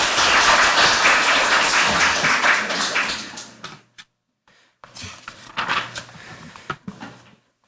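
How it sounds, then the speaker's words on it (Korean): Audience at a parliamentary seminar bursts into loud, dense applause that fades after about four seconds, followed by a brief silence and then scattered, thinner clapping and rustling. "큰 박수 부탁드립니다."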